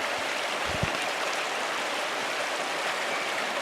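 Steady, continuous rush of a waterfall at a shrine in the video game Pentiment, a dense broadband wash of falling water with a brief low thump near the start, otherwise unbroken and even throughout.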